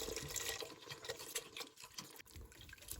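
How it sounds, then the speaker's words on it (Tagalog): Coconut milk pouring into a pot for guinataang halo halo, a soft steady liquid splash and trickle heard close but faint, with no talking. "I-add na natin ang gata, coconut milk."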